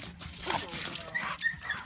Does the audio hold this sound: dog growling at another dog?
yes